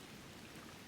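Steady rain hisses in a storm scene from the video game Donkey Kong Bananza, an even, dense wash of falling drops with a soft low rumble of thunder beneath, brief and unbroken.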